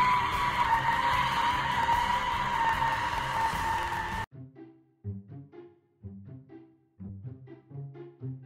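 Car tires squeal in a long, loud, continuous skid on an empty lot, cutting off abruptly halfway through and followed by softer, intermittent engine or rolling bursts.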